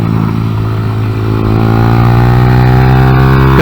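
A Honda Grom motorcycle with an upgraded shift pawl and spring ridden on a kart track, its engine droning loud and close with a steady, slightly rising pitch and no talk.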